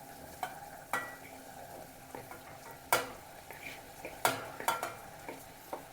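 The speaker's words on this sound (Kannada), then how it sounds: "ಇವಾಗ ನಾನಿಲ್ಲೇನು ಹುರಿದಿಟ್ಕೊಂಡಿದ್ದೀನಿ ಜವಳಿಕಾಯಿ, ಇದನ್ನು ಇದಕ್ಕೆ ಹಾಕೋತಾ ಇದ್ದೀನಿ" Roasted cluster beans being tossed and stirred into an onion and chilli tempering in a pan, with a quiet sizzle under sharp metallic scrapes and knocks of the spoon at irregular intervals, close and fairly soft.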